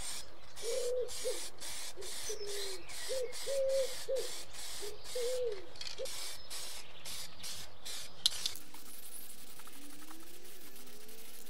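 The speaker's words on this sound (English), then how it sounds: "A clear lacquer is applied to prevent oxidation in the future." Clear lacquer sprayed from an aerosol can onto metal parts of a 40-year-old British mower, a series of short, close hissing bursts in a steady rhythm, then a quieter pause with faint mechanical background.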